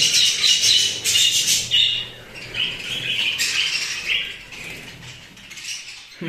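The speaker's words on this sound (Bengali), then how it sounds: "দেখেন পাখিটা আমার চলে গেছে" A pet budgerigar chick chirping and squawking nearby, with brief bursts of wing flutter as it takes off, in loud high chatter over several seconds.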